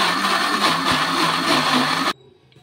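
A mixer grinder whirs loudly and continuously as it grinds soaked rice and coconut with a little water into a smooth batter for bun dosa, then cuts off abruptly near the end, leaving quiet room sound.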